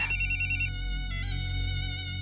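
A telephone rings in a drama scene with a warbling electronic ringtone, a rapid trilling burst followed by sustained tonal ringing, loud and close with steady background hum and no talk.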